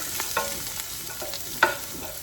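Onion sautéing in a pan gives a soft sizzle over about two seconds. A few light scrapes and clicks come from stirring, with a sharper knock partway through.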